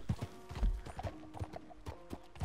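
Horse hooves clip-clop in a snowy Western game world, a close, uneven trot with sharp thuds and a brief whinny-like tone, with no talking.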